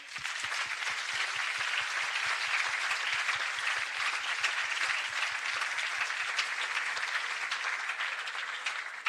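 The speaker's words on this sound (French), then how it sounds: "Je pense qu'on peut les applaudir." An audience at a French talk on Bolloré's colonial empire applauds, a dense steady round of clapping that holds for several seconds before thinning out near the end.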